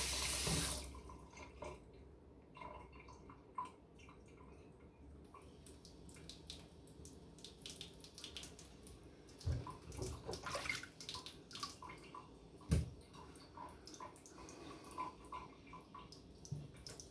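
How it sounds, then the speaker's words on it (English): Water runs from a tap into a basin for the whole stretch, a quiet, steady pour broken by sharper splashes and drips, recorded close with no talking. "Water is annoying."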